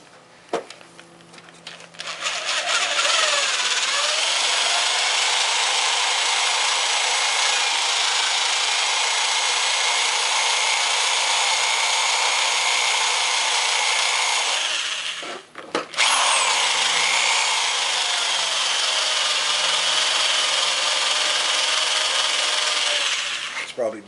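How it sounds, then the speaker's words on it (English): Large 1/2-inch Bosch power drill boring out trim fasteners on a car's T-top: a loud, sustained high whine runs for about thirteen seconds, stops briefly, then starts again and continues to the end. "So I'm going to drill these out."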